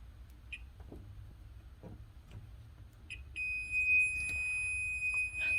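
A continuity tester clipped by alligator clips to a cut extension cord sounds a steady electronic beep that holds for about two seconds, close and clear over faint handling clicks in a quiet room.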